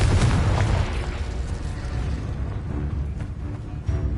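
A Confringo blast spell detonates in Hogwarts Legacy, a loud booming burst with heavy low rumble that decays into a sustained roar over several seconds.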